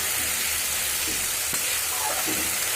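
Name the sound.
spices being sautéed in a pan for paneer curry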